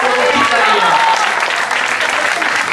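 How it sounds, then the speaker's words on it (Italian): Loud applause greets an award for the Coppa Italia at a slalom race in Oppido Mamertina, the clapping running throughout with voices talking over it. "un applauso per questo Coppa Italia"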